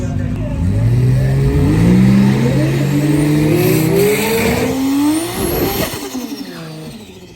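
A drag race car pulls up and revs for a qualifying pass, its loud engine note rising and falling in sweeping pitch climbs before cutting back near the end, with tire squeal and voices faintly underneath.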